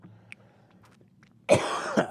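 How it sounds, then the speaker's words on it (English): A person coughs close to the microphone, a sharp, loud burst and then a second cough after a brief quiet stretch with faint rustling. "Sorry about my cough, guys."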